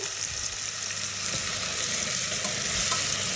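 Onions fry in a pan on a kitchen stove, giving a steady, close sizzle and crackle with no speech over it.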